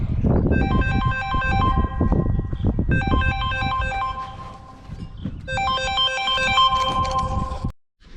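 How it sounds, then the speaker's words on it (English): A phone rings with an incoming call in a garage during a turbo and IMA battery install, three bursts of bright repeating ringtone melody over low background rumble, ending abruptly. "Phone call."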